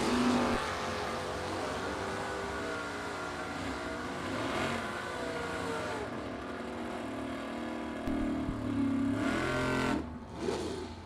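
Street Eliminator drag race cars, including a '69 Camaro, thunder down the strip near 130 mph, a loud sustained roar of engines at full throttle that swells again toward the end.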